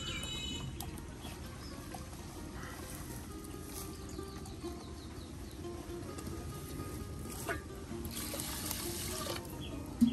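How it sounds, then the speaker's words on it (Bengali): Fine rice grains are rinsed in water, with continuous soft sloshing and swishing, a few brief louder splashes, and faint birdsong in the background. "এগুলো এখন এই যে পরিষ্কার করে ধৌত করে নিচ্ছে"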